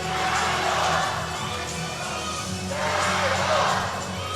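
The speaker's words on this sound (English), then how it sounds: "Even a lot of the Thai supporters are cheering her on here." A crowd cheers a female weightlifter at a -59kg IWF World Cup session, a steady loud roar that swells twice with no clear pauses.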